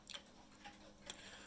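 Quiet, steady ticking of a Bulova pendulum mantel clock with chimes, a fast even beat of soft clicks heard close and alone.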